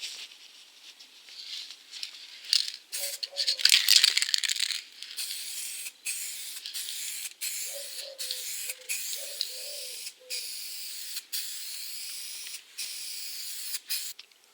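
A spray can lays clear coat over car paint in short, close hissing bursts broken by pauses, with a faint rattle between some passes.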